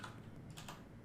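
Keys clatter on a computer keyboard in a short, quiet burst of quick taps, heard close up with no talking over it.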